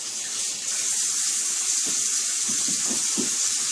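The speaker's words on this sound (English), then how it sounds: "You just take one at a time and rinse it right in the water." Tap water runs steadily and close by, splashing and gurgling as raw chicken pieces are rinsed under the stream.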